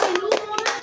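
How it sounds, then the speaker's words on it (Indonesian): Children in a primary school classroom clap their hands in a short, quick burst of several claps. A voice cuts briefly through the clapping. "Tepuk tangan dulu."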